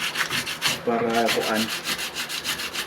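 Steady rhythmic scraping of sandpaper across the surface of a boat engine's starter, repeated strokes close up, with a brief spoken phrase partway through.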